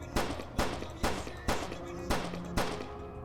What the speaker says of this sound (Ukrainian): А шість пострілів, ого